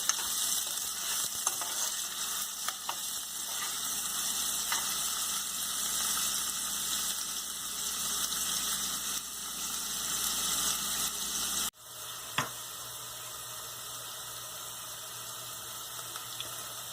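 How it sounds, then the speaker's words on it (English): Chopped onions fry in heated oil in a pan for street-style pav bhaji, giving a steady, close, dense sizzle throughout, with light stirring ticks and a brief clatter near the end, no voices. "Cook this onion till it becomes golden brown."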